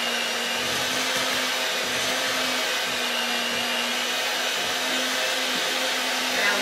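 An electric mixer whirs steadily as it beats mashed potatoes with milk, a constant high motor drone with a low hum that continues unbroken throughout.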